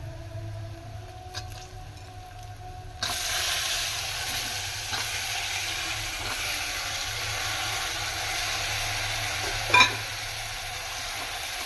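Tomatoes tossed into a pan of browned onions with turmeric set off a sudden loud sizzle that keeps hissing steadily, with stirring scrapes and a brief clatter near the end, no one talking.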